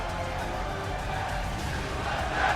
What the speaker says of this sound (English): You can hear just how happy the crowd are about it.